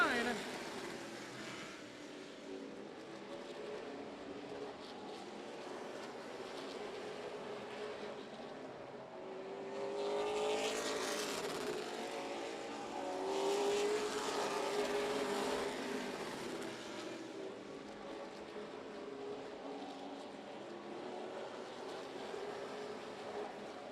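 Race cars lap the track at Houston Motorsports Park, their engines a distant droning roar that swells twice as cars pass closer. The sound stays fairly faint throughout, and a commentator's voice can be heard under it.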